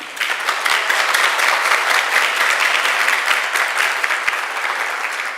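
Sustained audience applause at a Mangal Aarti lecture in Amritsar, a loud, dense wash of many hands clapping steadily throughout with no break.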